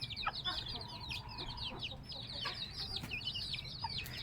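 A mother hen and several hens cluck softly and steadily with a brood of chicks over a busy farmyard background, with chirpy bird calls scattered throughout.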